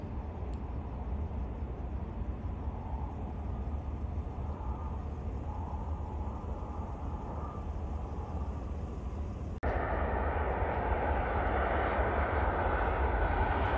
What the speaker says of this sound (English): Looks like an A320 maybe is landing here.